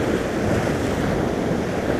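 Sea waves wash in steadily at the shore during lure fishing from the coast, with gusting wind buffeting the microphone in a continuous, loud roar and no voices.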